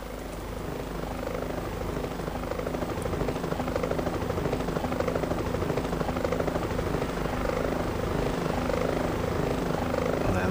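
Helicopter rotors and engines of Stallion transport helicopters flying in the F-22 Total Air War flight game, a loud steady rhythmic chop holding throughout with no talk.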